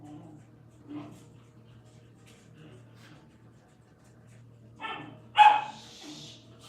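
A dog gives two sharp barks close together near the end, after a quiet stretch of low hum with faint, sparse speech.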